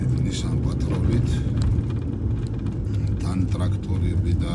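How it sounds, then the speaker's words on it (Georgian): A Nissan Patrol SUV on the road, its engine and tyres making a loud, steady low rumble that continues throughout, with people talking over it. "ლაშა მოდის თავისი Nissan Patrol-ით."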